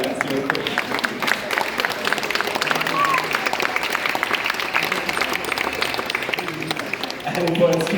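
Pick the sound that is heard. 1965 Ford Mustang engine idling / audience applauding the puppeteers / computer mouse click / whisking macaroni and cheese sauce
audience applauding the puppeteers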